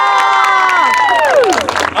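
An audience at a Renaissance faire stage show cheers and applauds the performers, with loud whoops and shouts over clapping and a descending whistle-like tone during the cheering.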